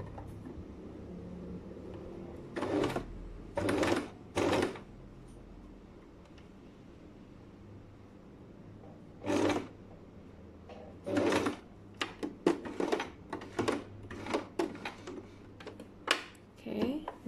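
A sewing machine stitches a sleeve placket in short bursts, stopping and starting several times at close range, with quiet pauses between runs and a low steady hum underneath.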